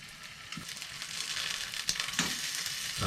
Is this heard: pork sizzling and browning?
yes